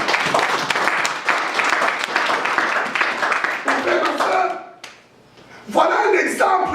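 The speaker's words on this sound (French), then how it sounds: "Acclamons pour le Seigneur" A church congregation claps and cheers in praise of the Lord, loud and sustained for several seconds, then briefly fades before another burst of clapping and shouts.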